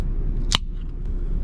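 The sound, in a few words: opening a can of pineapple sparkling drink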